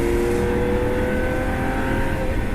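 A Lamborghini Aventador LP700-4 V12 engine holds a loud, sustained high-revving roar with a steady, rich tone and no voices.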